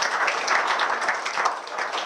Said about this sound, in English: Round of applause for Kirk Oguri.